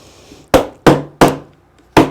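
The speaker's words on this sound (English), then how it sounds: "So I have a hammer, a nice little handy hammer" Four sharp hammer blows from a small handy hammer, loud and close, spaced unevenly about every half second with short ringing decay, no talk.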